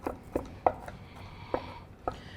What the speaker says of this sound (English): while I'm madly chopping all of this wonderful garlic